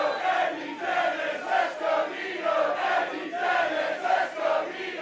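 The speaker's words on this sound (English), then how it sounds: "They are electric, this crowd." Pro wrestling audience at an indoor show roaring and chanting in rhythmic waves, a dense crowd sound with repeated swells and no clear talk over it.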